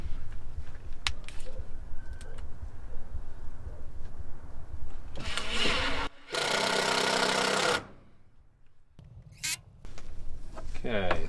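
A power drill or driver runs in loud, steady bursts as screws go into a chicken coop upgrade, with a long sustained run near the end and a short burst after a pause, among some background noise.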